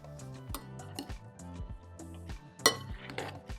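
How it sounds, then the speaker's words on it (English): A spoon mixing creamy potato salad, seasoned with white pepper, in a bowl, making soft repeated clinks and scrapes against the dish, fairly quiet and close up with no voices. "Now we want to mix it all together."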